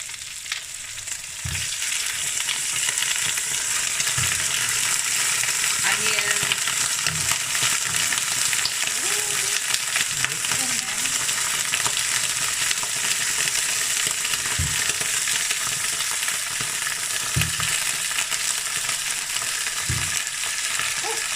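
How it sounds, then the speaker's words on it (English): Potatoes browning in a frying pan for a leg of mutton dish hiss with a steady, loud sizzle throughout, broken by occasional clinks and scrapes of stirring. "So now I'm going to add my potatoes as well. I'm going to brown my potatoes."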